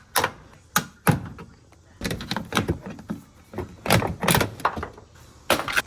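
Door seal clips are pried off an Infiniti G35 car door, a series of sharp plastic snaps, clicks and scraping thunks at irregular intervals, close and fairly loud.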